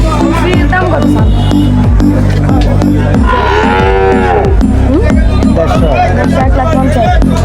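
Cattle lowing at a busy Daly Goru Bazar cattle market, with repeated low moos and one long, loud call rising near the middle, set against constant crowd babble and people talking close by.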